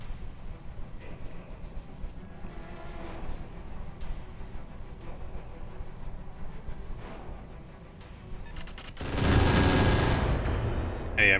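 Inferno weapons firing in the Roguetech BattleTech mod, steady crackling gunfire and booms throughout, swelling into a loud roaring burst near the end, with no talking.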